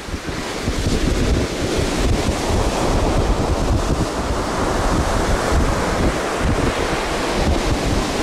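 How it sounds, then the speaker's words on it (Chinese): Strong wind and ocean waves on a black sand beach in Iceland make a loud, continuous roar as gusts buffet the microphone over crashing surf, with no one talking. "这里不光风大，海浪更是反复无常，忽大忽小"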